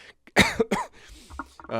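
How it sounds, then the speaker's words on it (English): A sharp, close cough bursts out with some throat clearing, followed by a person starting to speak. "Sorry, I have a cough."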